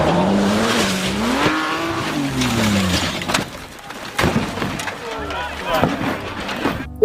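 Toy race car imitation with a rising and falling engine-like tone carried by a voice at the start, followed by clattering handling noises and a few short bursts while the toy is being cleaned.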